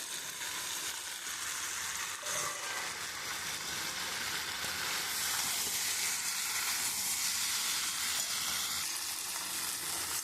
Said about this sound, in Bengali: আমি চিংড়ি মাছটা দিয়ে খুব সুন্দর করে কষিয়ে নিয়েছি